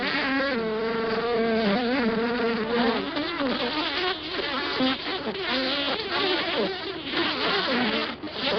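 Bees at an Australian hive entrance make a dense, continuous buzz that stays loud and close throughout, with many wingbeats overlapping and no voices.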